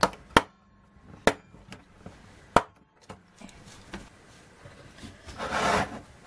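Phillips screwdriver working on the underside of a floppy disk drive being taken apart: a series of sharp, close clicks and knocks spaced irregularly, followed by a longer scraping rasp near the end.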